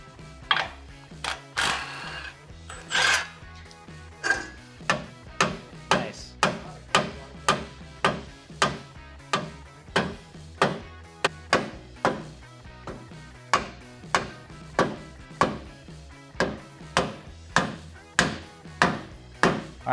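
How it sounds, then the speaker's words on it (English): Metal mounting ears on a second-generation Toyota Tacoma front bumper area being hammered down, a long run of sharp, evenly spaced strikes about twice per second, close and loud, with no talk. "we'll need to either cut them off or hammer them down so that our side support bracket will fit into place"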